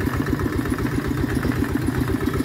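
A tractor engine runs steadily on a rough, steep rural track, its close, loud diesel chugging holding an even rhythm with a clattering low beat throughout.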